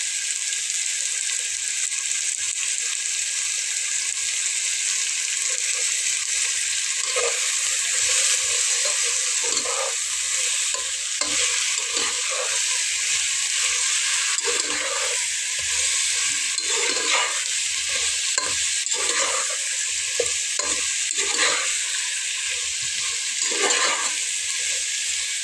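Ginger and garlic paste fry in hot oil in a pan while making a tilapia curry with new potatoes, giving a constant loud sizzle broken by repeated scraping and stirring strokes.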